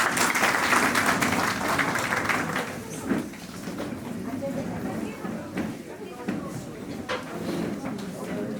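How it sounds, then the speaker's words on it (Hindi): An audience at a retirement function claps to welcome a senior hospital official, with dense, steady clapping filling the room throughout and voices chattering beneath it. "सारे तालियां मारते हुए स्वागत करें"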